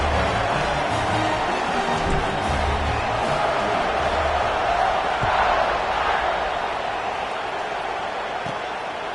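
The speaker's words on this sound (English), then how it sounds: "this crowd is buzzing after that last score." A stadium crowd in the Madden 26 American football video game buzzes in a steady, dense roar, with faint thumps and murmurs in the mix and no clear commentary on top.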